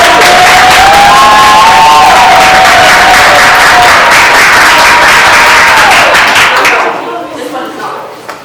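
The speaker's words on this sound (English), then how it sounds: "Get a round of applause." Loud audience applause and cheering at a stage event, a dense wall of clapping with whoops and voices that carries strongly, then tapers off sharply near the end.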